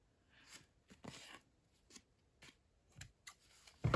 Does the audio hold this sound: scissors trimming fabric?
yes